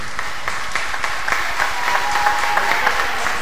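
An audience claps for a folk duo at a concert, moderately loud and steady, with a faint tone ringing under the applause and no clear voices.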